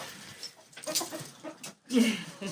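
Chickens eating winter treats such as scratch grains cluck in short, close, irregular bursts, with a slightly louder call toward the end.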